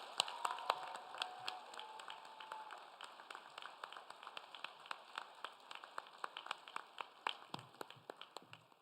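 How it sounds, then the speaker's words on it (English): Clapping from an audience at a junior high school awards night for students, scattered and sustained across the whole stretch, sharp individual claps standing out over a steady patter, moderately distant. "let's give them a round of applause"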